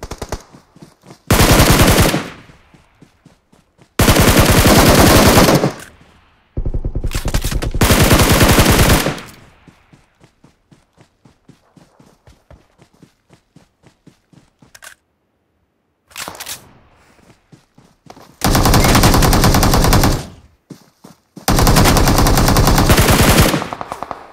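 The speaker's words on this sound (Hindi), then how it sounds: "इस बेचारे को पीछे से स्नाइपर शॉट पड़ता है एंड एक दो गोली मेरी लगती है" Loud automatic gunfire bursts from PUBG Mobile gameplay, several sustained volleys separated by quieter stretches of sparse single shots and clicks, with sniper shots in the mix.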